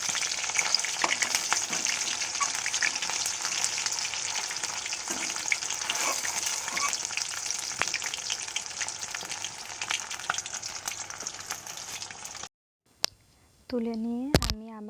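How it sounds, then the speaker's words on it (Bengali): Pakoras frying in oil in a wok give off a steady, dense sizzle with faint crackles throughout, then the sound cuts out briefly near the end and a short voice is heard. "তেলের মধ্যে পকোড়াগুলো ছেড়ে দিলাম"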